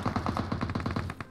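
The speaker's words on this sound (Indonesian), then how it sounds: "Oh, ditembakin teman-teman gua." Rapid automatic gunfire from PUBG Mobile, a quick burst of evenly spaced shots fired in succession with no talking over it.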